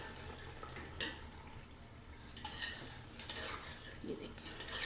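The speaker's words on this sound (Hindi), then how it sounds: "ये देखिए मिक्स करेंगे अच्छी तरह मसाले में।" Spoon scraping and stirring boiled chickpeas into fried masala in a cooking pot, soft irregular scrapes and clinks over a faint sizzle, no talking.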